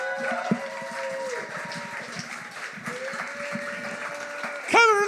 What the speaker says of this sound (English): Please give a huge round of applause to Adelia.